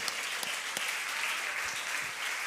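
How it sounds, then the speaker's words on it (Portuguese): A church congregation applauding loudly, a dense, steady wash of many hands clapping throughout, with a few sharper claps standing out near the front. "Aplaudam forte ao Senhor."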